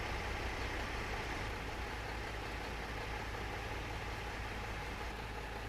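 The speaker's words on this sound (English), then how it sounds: "Get rid of some of those trucks out there. It's awfully loud." Ground vehicles idle outside an Airbus airliner in a flight simulator, a constant loud engine drone with a deep rumble, steady and unbroken, with no voices.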